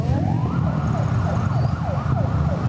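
A police siren wails in a steady rising-and-falling sweep at an opening-day parade, loud and close over a low rumble of engines and crowd, with no talk on top.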